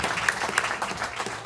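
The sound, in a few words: audience applause at a convention gaming panel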